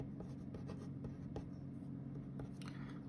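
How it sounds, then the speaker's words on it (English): Pen or marker writing on a board during a math lesson, soft quiet scratchy strokes in irregular bursts over a low steady room hum. "I'm just going to write that here."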